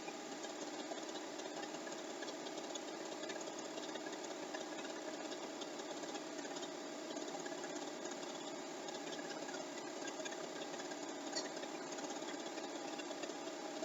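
A sewing machine quilting a quilt hums steadily and evenly at low volume for the whole stretch, a continuous motor drone with no breaks and no voices.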